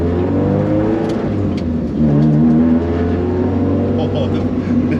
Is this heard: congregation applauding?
no